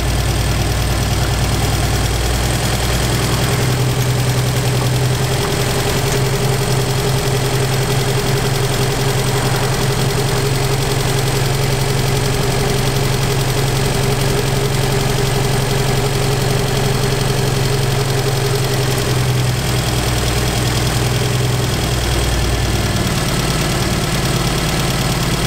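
A car engine is used for balancing motorcycle carburetors, idling steadily and loudly up close with a deep, even hum and slight knocking vibration throughout, the pitch shifting a little as the throttle is adjusted.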